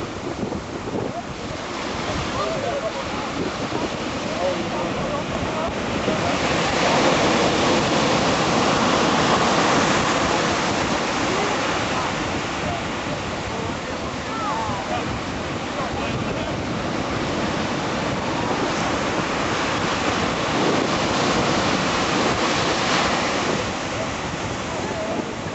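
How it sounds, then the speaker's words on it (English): Ocean surf breaking on a Hawaii shore, a steady broadband wash that swells and eases over about 25 seconds with wind buffeting the microphone, no talk. "trying to handle the waves here"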